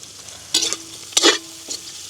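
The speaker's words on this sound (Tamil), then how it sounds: "நல்லபடியே பிரட்டி விடுவோம்" Onions, leeks and carrots being stirred in a pan in a village kitchen: three short scraping bursts of a spoon against the pan over a low sizzle of frying, with no talk.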